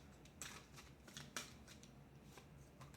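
Tarot cards being shuffled at a reading, with several quick papery riffles and slaps close up over a faint steady hum, no voices.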